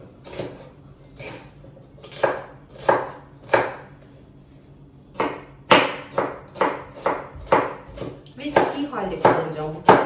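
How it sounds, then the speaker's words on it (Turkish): A knife chops bell peppers into very small pieces on a cutting board close up, a few spaced strikes first, then a quicker run of sharp, rhythmic chops. "biberleri çok küçük küçük doğramak istiyorum"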